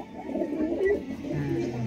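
Pigeons at a Punjabi loft, including a black-and-white pair, give low repeated coos that run steadily through the moment at moderate loudness with a soft background murmur.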